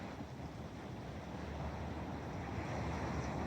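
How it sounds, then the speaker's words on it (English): Ocean waves wash steadily onto the shore of a scenic coast ringed by hills and mountains, a continuous broadband rush blended with wind buffeting the microphone, with no voices. "The waves rocking up on the shore"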